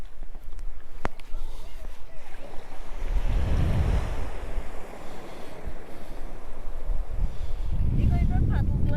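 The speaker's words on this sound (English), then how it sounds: "I just like listening to the sound of the waves going." Sea waves break and wash over a rocky beach at Looe, surging in two louder rushes with wind buffeting the microphone between them.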